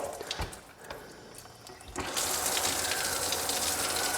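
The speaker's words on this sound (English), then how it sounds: "we'll just turn the faucet on" Water begins gushing from a single-lever faucet with no screen fitted, starting softly and then rushing louder and steadier, a continuous close splashing flow.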